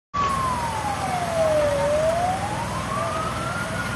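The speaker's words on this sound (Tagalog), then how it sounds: "ambulansya." An ambulance siren wails in one long falling then rising sweep over a steady street rumble, loud and fairly close, near the scene of a fire in Layac, Dinalupihan, Bataan.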